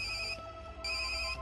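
A telephone rings in two electronic bursts with a brief pause between them, loud and close with no talking over it.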